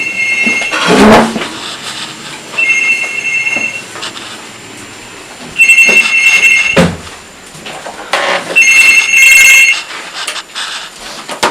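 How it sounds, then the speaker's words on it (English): A telephone rings in repeated electronic bursts indoors, several loud trilling rings separated by short pauses, with a couple of sharp knocks or clatters near the start. "Your phone's going"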